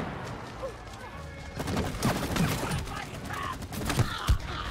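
Gunfire in the co-op video game It Takes Two, a scatter of quick shots and bursts under excited talk from players.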